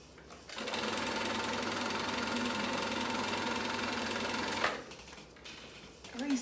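A sewing machine runs steadily for about four seconds, a loud even mechanical whir with a ticking rhythm of needle and gears, then cuts off into a quiet room with small handling noises.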